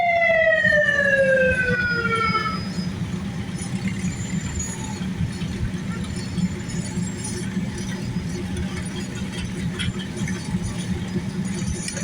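Siren of a Cooksville Volunteer Fire Department fire truck in a small-town reunion parade: a loud wailing tone falls away over the first few seconds, then a steady diesel engine rumble and street crowd noise carry on.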